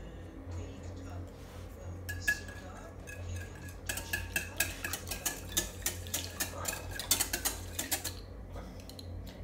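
A spoon stirs egg batter in a bowl, quick rhythmic scraping clinks that start hesitantly then turn into a steady run of close, fairly quiet taps against the sides, with a voice heard briefly.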